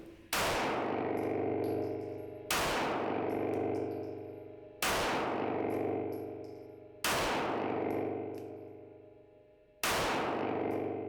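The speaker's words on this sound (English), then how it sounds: "So let's do that now, let's take some shots." An HK VP9 pistol fitted with a match upper kit fires at a target. There are five loud, sharp shots at a steady pace, each with a long echoing decay that fills the gaps between them.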